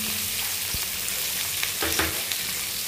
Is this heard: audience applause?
no